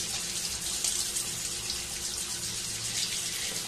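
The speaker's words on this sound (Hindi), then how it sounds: "इसको खोल दीजिए ऐसे करके, ये जो पानी आ रहा है" Water runs steadily from an opened tap, a continuous close hiss and splash into a sink with no break and no voices.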